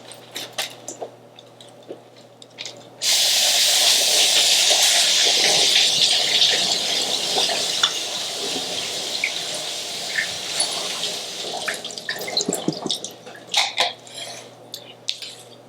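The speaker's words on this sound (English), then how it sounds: "So we are going to rinse off these potatoes." Potatoes rinsed under a kitchen tap, a loud continuous gush of running water that starts abruptly, then gives way to splashing, dripping and light knocks as the water is shut off.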